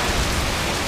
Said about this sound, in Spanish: el agua con granizo